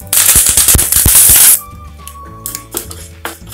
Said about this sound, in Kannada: ಈಗ ಕರಿಬೇವು ಹಾಕ್ಕೊಳ್ಳೋಣ, ಹಸಿ ಒಣಮೆಣಸು.